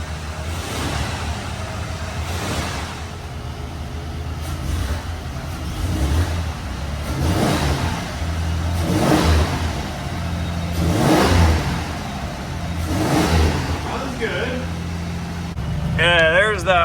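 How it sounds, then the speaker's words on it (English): A Ford Ranger pickup truck engine, faulty with water in it, revs repeatedly in surges, loud and close, with a rough idle between pushes and some voices mixed in. "let's give it some throttle"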